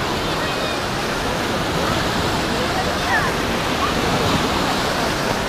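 A water park wave pool in Yalta, Crimea, churns with a steady, loud wash of surf that rolls on without a break and covers the whole scene.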